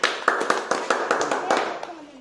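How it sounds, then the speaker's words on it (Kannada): Children in a school classroom clap their hands in a quick, even run of about ten sharp claps that trail off, with a voice speaking underneath. "ಚಪ್ಪಾಳೆ ಹಿಡಿಯಪ್ಪ"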